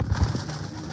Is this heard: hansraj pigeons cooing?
yes